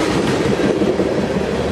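BNSF mixed freight train with Dash 9 and SD70MAC locomotives rolls past close by, a loud continuous roar of wheels and rail noise filling the whole moment with no voices.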